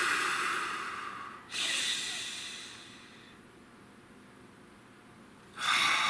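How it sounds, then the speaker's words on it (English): Slow, deep breaths are drawn in and let out close to the microphone, a loud inhale, a long fading exhale, then another inhale, with no talking. "Nice deep breath."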